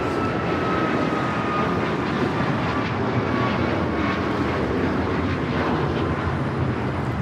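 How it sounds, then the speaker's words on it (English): A United Airlines Boeing 737 MAX 9 takes off at LAX, a loud, steady jet engine roar filling the whole stretch with a broad low rumble and no pauses or voices. "2039 taking off to Baltimore on the MAX 9"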